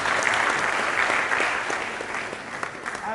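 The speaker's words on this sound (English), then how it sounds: "Please let's clap for Dr. AYOOLA once again." An audience at a stakeholders conference roundtable at the University of Ibadan applauds, dense sustained clapping that stays loud throughout and tapers slightly toward the end.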